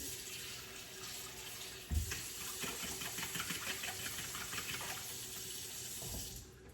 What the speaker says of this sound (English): So what I'm gonna do is add some water to it.